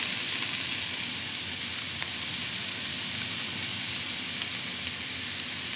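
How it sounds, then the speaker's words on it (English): Chopped onions sauté in a pan for a pork chile verde, giving a steady, close hiss and sizzle with faint crackles throughout and no talking. "our onions have been sauteing for about 5 minutes here"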